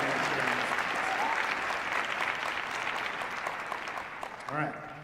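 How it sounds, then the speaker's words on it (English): Steady applause from a large audience at a multicultural graduation celebration, sustained clapping throughout that fades slightly near the end, with a brief voice rising over it. "All right, now you can give the applause."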